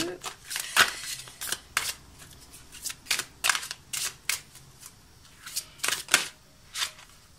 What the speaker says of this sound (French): je vais ici tirer maintenant pour clôturer votre tirage avec l'oracle des mandalas d'énergie